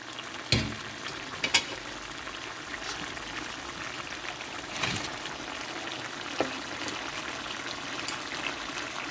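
Sausage frying and simmering in a pan for chicken afritada, a soft steady sizzle with occasional spoon knocks and clatters, fairly faint and close, no speech.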